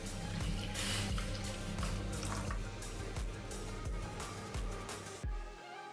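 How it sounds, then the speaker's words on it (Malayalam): Milk poured from a packet into a heated pan on the stove, a steady close liquid splashing and trickling for several seconds before stopping abruptly, with no voices. "ഒരു കവർ പാല് നമുക്ക് ഇതിലോട്ട് ഒഴിക്കാം"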